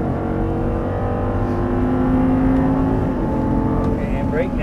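An Audi R8 on a race track pulls hard at full throttle after an upshift, its engine note rising loud and steady from inside the car, with a voice talking over it.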